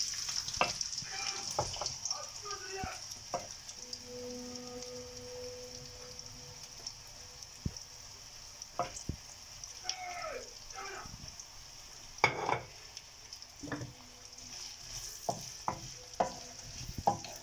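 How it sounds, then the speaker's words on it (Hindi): Chopped onions frying in oil in a pan for a liver masala dish, a steady soft sizzle broken by occasional stirring clicks and scrapes, fairly quiet with no talking. "इसको हमने गोल्डन करना है जस्ट ना बहुत ज़्यादा फ्राई नहीं करना डार्क नहीं करना जस्ट गोल्डन करेंगे"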